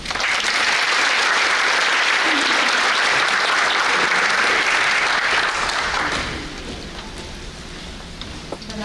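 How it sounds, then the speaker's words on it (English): Dense, sustained applause from an audience at the 2024 The Long Nguyễn & Kimmy Duong scholarship ceremony, loud and steady for about six seconds before thinning to a softer patter near the end. "please hold your applause until the end of the presentation for each school"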